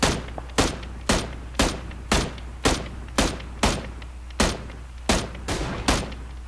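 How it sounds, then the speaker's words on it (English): Rapid gunfire crackles through a wooded area in PUBG: about a dozen sharp, loud shots at a fairly steady pace, each with a short echoing tail, and no talking. "there's another guy right there in the woods shooting at him"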